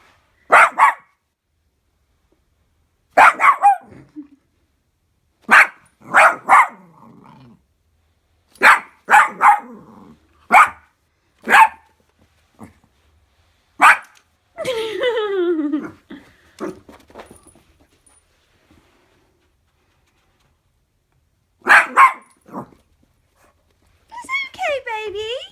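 A dog barks at a dehumidifier in a quiet indoor room, loud and close, firing short sharp barks in scattered bursts with soft whimpers between them, while a person speaks soothingly in between.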